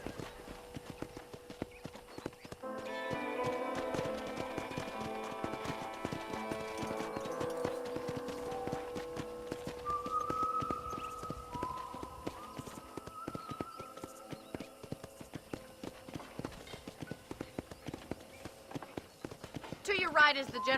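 Horse hooves clip-clopping at a steady walking rhythm in the Red Dead Redemption western video game, heard under a constant wash of game music and ambience, fairly close and moderately loud throughout.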